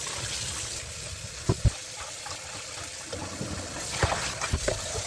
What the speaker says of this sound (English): So I'm gonna throw all that water away.